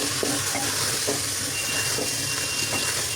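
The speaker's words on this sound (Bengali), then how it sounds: "এখন এগুলো সহ আমি তেলের মধ্যে ভেজে নিচ্ছি" Salt, turmeric, chilli, coriander and Kashmiri red chilli powder frying in hot oil for aloo gosht, a continuous crackling sizzle with occasional soft stirring scrapes.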